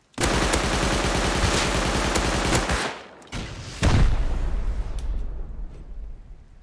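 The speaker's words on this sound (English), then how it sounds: "Hey, who's shooting rockets?" Rocket launchers fire in the survival video game Rust, with a dense barrage of booming blasts, a brief lull, and then another loud detonation that trails off into rumbling.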